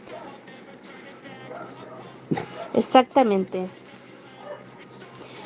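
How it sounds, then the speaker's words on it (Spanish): A small female pet dog gives a few short yips and whimpers close by, a brief cluster of high squeaky calls heard over someone talking. "tengo a mi perrita acá"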